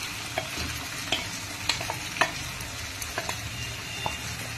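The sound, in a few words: stirring chicken with yogurt into onion paste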